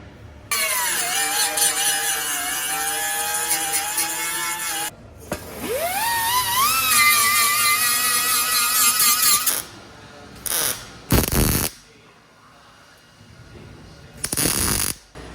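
A power tool whirs steadily against the underside of a 240SX race car hood, stopping briefly, then spinning back up with a rising whine before cutting off into short intermittent bursts, loud and close.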